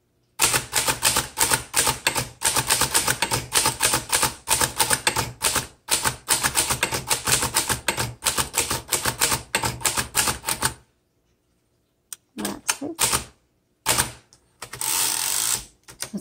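A 1926 Underwood four-bank typewriter clatters in rapid keystrokes for about eleven seconds, close and crisp, then pauses and resumes with a few scattered strikes and a longer mechanical carriage sound near the end.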